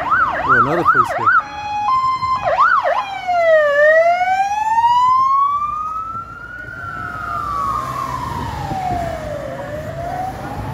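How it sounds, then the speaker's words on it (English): A wailing siren sweeps up and down, switching between fast yelps and slower long wails over the rumble of traffic, loud and close. "Oh, another police car."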